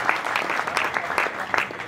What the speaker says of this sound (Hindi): इनके सम्मान में जोरदार तालियां।